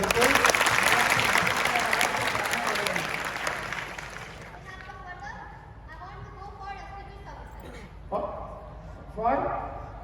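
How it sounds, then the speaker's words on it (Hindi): Large student audience at a college lecture in Kalan, Sultanpur breaking into loud applause that fades after about four seconds, followed by someone talking over the quiet hall. "वेरी गुड, वेरी गुड, तालियां बजाइए इसको।"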